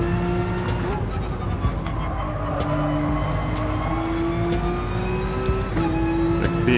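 Race car engine of a Porsche RSR in GT Sport at Brands Hatch, a steady loud engine drone with shifting pitch as revs rise and fall through the gears, with faint tire squeal and commentary-like voice underneath.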